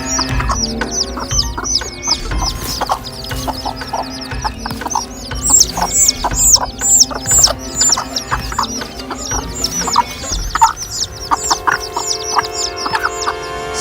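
A mother hen clucks over her chicks while fending off an attacking baby cobra, her busy, repeated clucks and squawks sounding close and loud, with bursts of agitated calls midway through.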